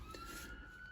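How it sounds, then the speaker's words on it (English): Sirens wail far off in the background, faint and continuous, with no speech. "Excuse the sirens in the background."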